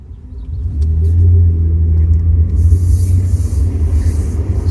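Low engine drone and road rumble inside a moving car, steady and close, swelling slightly as the vehicle picks up speed, with no talking.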